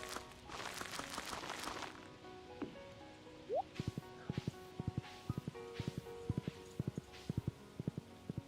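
Horse hooves clip-clop in Stardew Valley: a steady, even run of sharp, close hoof beats that starts partway through, after a softer rustling and a brief chime.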